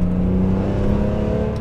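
A BMW M3 engine revs loudly and close on a downshift, its tone holding steady and then falling slightly, with no talk.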